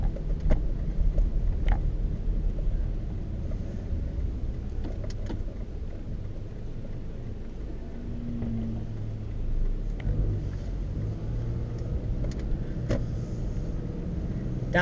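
A car drives around downtown with a steady low engine and road rumble throughout, occasional faint clicks and knocks over the top, and no voices.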